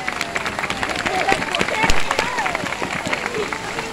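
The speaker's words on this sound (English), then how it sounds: "Give a big round of applause." Audience at a seal show applauding outdoors, scattered claps mixed with crowd murmur and a voice talking over them throughout.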